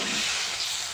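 Vegetables sautéing in a pan hiss and sizzle steadily right after water is poured in, a close, continuous bright frying sound with no talk.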